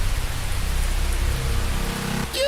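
A rain shower falls as a steady, even hiss of drops that fills the whole stretch, with a brief higher tone cutting in near the end.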